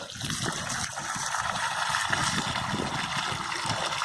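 Water pours steadily into a self-watering planter holding lemongrass cuttings, a continuous close trickling gush with no talk over it.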